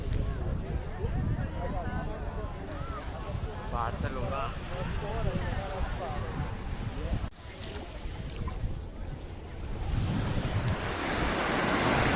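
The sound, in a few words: waves at a beach in Spain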